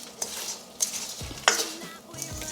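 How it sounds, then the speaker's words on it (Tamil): Goli idli sautéed in a pan with Kashmiri chilli powder: a soft sizzle runs under several sharp metallic scrapes and clinks of a spoon against the pan. "ஒரு 2 நிமிஷம் வதக்கிட்டு ஃப்ளேமை ஸ்விட்ச் ஆஃப் பண்ணிடலாம்"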